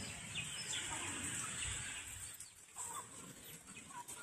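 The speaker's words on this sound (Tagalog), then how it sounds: "Mga manok, may gansa, may pato." Chickens cluck and squawk in a farmyard with geese and ducks, scattered bird calls and a steady high hiss of insects in the background.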